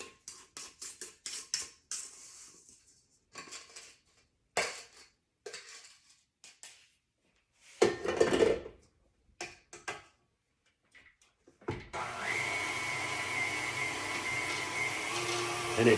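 Mixing tea cake batter for old-fashioned teacakes produces scattered scrapes and clinks of a utensil against a bowl, irregular and close, before a steady whirring mixer-like roar takes over near the end.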